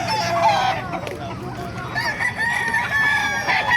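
Lemon sweater gamefowl at the Bocaue market, with a rooster crowing close by in a strained rising call amid clucking and busy market noise, and faint voices behind.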